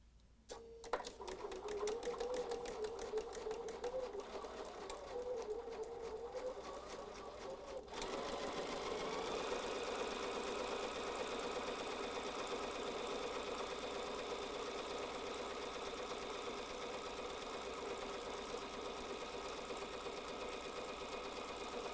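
A sewing machine runs close up, stitching fabric with a small seam guide fitted. A brief start gives way to a steady, fast mechanical whir and tapping that holds evenly with no talking.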